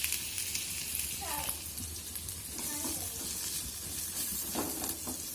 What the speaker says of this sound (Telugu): ఇప్పుడు ఆనియన్ క్యాప్సికమ్ ని ఫ్రై చేసి పెట్టుకోవాలండి మనము